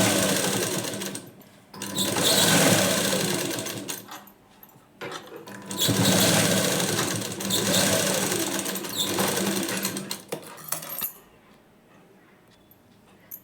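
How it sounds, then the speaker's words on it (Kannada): An electric sewing machine runs in two long stitching bursts on a fabric strip for a hook-and-eye band, a fast, buzzing whir that stops and starts again, then trails off into brief rattles and quiet. "ಇದ್ರ ಮೇಲೆ ಒಂದು ಸ್ಟಿಚಿಂಗನ್ನು ಹಾಕ್ಕೊಳ್ಳಿ."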